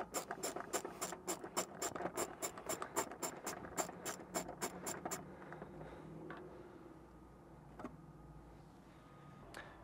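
A bolt on a 5th Gen 4Runner rear interior panel is loosened with a 10 mm ratchet wrench: about five seconds of close, rapid, even ratchet clicks, then quieter handling and faint rustling.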